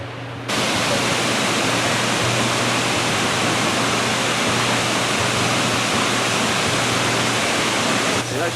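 A waterfall roars in a steady, dense rush that starts abruptly and holds at an even, loud level for about eight seconds, with no talking.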